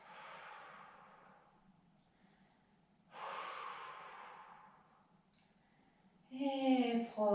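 Slow, deep breaths held through a Pilates position: three long airy inhales and exhales, close and soft, each swelling and fading with quiet gaps between, the last ending in a brief voiced sigh.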